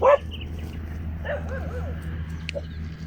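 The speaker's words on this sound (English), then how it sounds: "Is a dog there?" A dog gives a single short loud bark at the start, then a few fainter yips follow over steady background hum.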